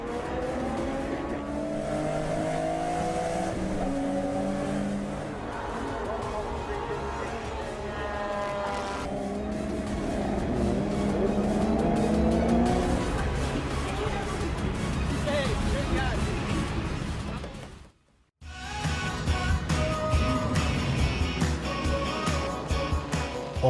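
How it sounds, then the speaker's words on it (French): Historic racing cars including a BMW 3.0 CSL, a Volvo 240T and Ford Escorts race on track, engines loud and sustained with rising and falling revs, a brief cut to silence, then engines again under a talking voice. "les pilotes des BMW 3 litres CSL, Volvo 240T et autres Ford Escort ont pu s'affronter de jour comme de nuit"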